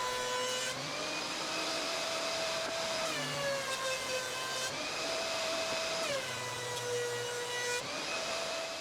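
A power sander works over wooden bench planks, a steady loud whine rising and dipping in pitch over several passes, with brief pauses between strokes and no talking.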